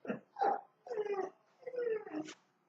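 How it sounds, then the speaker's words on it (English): A dog whines indoors in a series of separate, pitched whimpers and moans that rise and fall, close and fairly soft, with short silences between them. "Sorry, my dog's whining."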